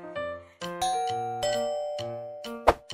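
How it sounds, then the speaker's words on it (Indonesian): A doorbell plays a ringing ding-dong chime, its clear tones sustaining and overlapping, then a brief sharp clatter near the end; nobody speaks. "Ada bel bunyi."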